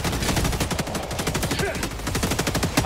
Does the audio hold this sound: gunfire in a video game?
yes